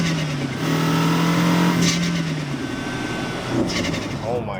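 A Mini Cooper F-series engine with an aftermarket MST intake and Dinan exhaust revs loudly and throatily, rising and falling a couple of times, with people talking over it.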